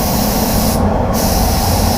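A spray gun lays clear coat onto a Mercedes-Benz C250 in a steady, close, continuous hiss that runs the full length without pause or talk.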